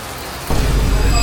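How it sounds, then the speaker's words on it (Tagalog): Rain begins abruptly partway through, a dense broadband hiss of downpour that stays steady and fairly loud to the end, on a trip in Vietnam. "Naulan!"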